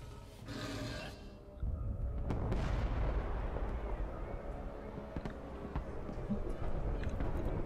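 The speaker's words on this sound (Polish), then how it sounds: "Te wybuchy straszne lagi powodują." A heavy explosion in the video game Amnesia: A Machine for Pigs booms after a short rumble, followed by a long roaring, crackling tail of blasts and debris, loud and close; no talking.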